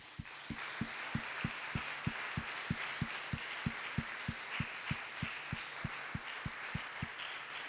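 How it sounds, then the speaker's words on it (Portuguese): A church congregation claps in a steady, even rhythm, sharp regular beats over a soft wash of room noise and voices, heard fairly distant and quiet. "Aplauda o Senhor"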